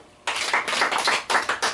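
A church congregation claps in short, sharp bursts of several hands together after a brief quiet start, with the rhythmic clapping pulsing on and off through the rest.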